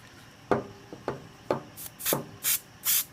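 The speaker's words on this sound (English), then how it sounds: "So I got some of this Loctite spray adhesive stuff, and I'm just going to stick them back on there." Short bursts of Loctite spray adhesive hiss out close by, following a few soft rubbing and tapping sounds. The bursts get louder and longer toward the end.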